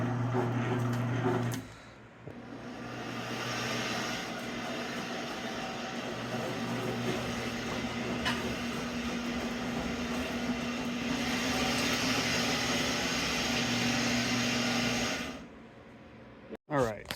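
A wheelbarrow powered by a treadmill motor strains in reverse to pull a jet ski of about 550 pounds on its trailer. It gives a steady, loud electric drone for about thirteen seconds, then stops abruptly with a few clunks.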